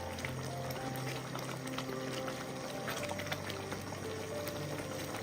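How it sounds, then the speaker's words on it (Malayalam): A pot of coconut milk and raw jackfruit mixture simmering, a soft continuous bubbling and burbling with faint low hum underneath, quiet and steady with no talking. "അത് നല്ലതുപോലെ ഒന്ന് തിളച്ച് വരട്ടെ. തിളച്ച് ചെറുതായിട്ടൊന്ന് കുറുകി വരണം."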